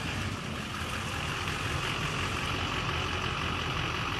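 A big pickup truck's engine idling, a steady close rumble with constant broadband drone that holds evenly throughout and cuts off abruptly at the end.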